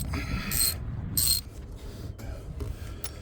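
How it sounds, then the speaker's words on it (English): A 19 mm socket wrench ratchets loose a coolant temperature sensor on a Silverado or Sierra 5.3L engine, giving several short raspy clicking bursts up close. "we're just going to put it right over the whole thing, and we're just going to break it loose. Just unscrew it out."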